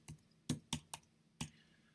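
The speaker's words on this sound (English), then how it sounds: "Uh-oh, I just started typing." Keys tapped on a computer keyboard, five or six distinct close clicks spaced irregularly across a couple of seconds, quiet and alone.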